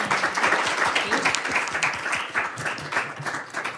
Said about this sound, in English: give our panelists another round of applause